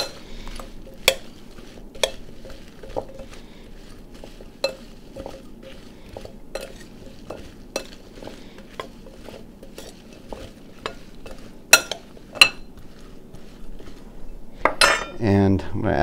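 Metal utensils scrape and clink against a metal pan while roasted Brussels sprouts are tossed with oil, making sharp irregular clinks over a soft rustle, with a louder clatter near the end.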